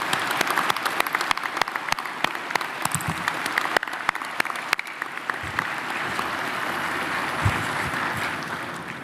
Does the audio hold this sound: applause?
yes